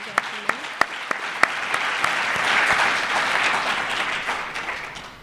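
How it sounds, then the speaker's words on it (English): Audience applause at a public health epidemiology graduation ceremony, opening with a few sharp individual claps before swelling into steady, dense clapping from a large crowd that holds for several seconds. "A round of applause for these ladies and gentlemen."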